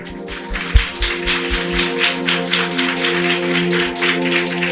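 An audience at a Telugu Christian gathering claps in rhythm, sharp repeated hand claps beating steadily over sustained music, loud and close.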